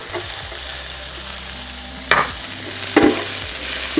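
Onion and half a jalapeno frying in a hot pan, a steady close sizzle with a few sharp scrapes and clatters of a utensil stirring.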